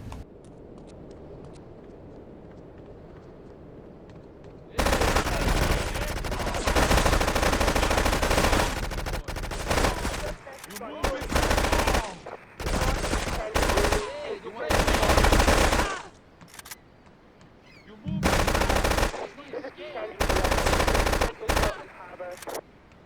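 Rapid automatic gunfire from running and gunning in GTA Definitive Edition, with long loud bursts broken by short pauses and scattered single shots.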